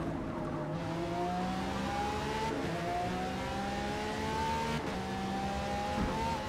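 A Lamborghini Veneno engine in the racing game Forza Motorsport, set in rain, drones and revs steadily, climbing in pitch through repeated gear changes with a continuous, loud engine note.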